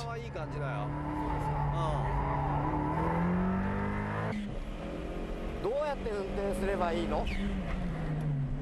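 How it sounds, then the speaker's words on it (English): A tuned Toyota Starlet Turbo revs through its gears on a time-trial run, the engine note climbing and dropping with each shift and sounding somewhat distant, while a commentator talks over it throughout. "Kawasaki attacking gingerly, trying to get acquainted with his tuned Starlet Turbo. He's revving higher than Ono when shifting."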